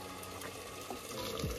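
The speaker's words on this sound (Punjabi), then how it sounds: "ਗਰਮ ਪਾਣੀ" Hot water poured into a cooking pot for black chana gravy, a brief close pour with a soft gushing, bubbling quality that runs steadily for a moment.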